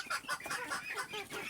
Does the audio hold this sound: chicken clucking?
yes